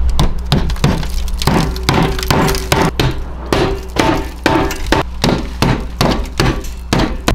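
Metal lath is stapled down over a stucco patch: a rapid series of sharp, loud impacts, evenly spaced and close, one after another with no speech.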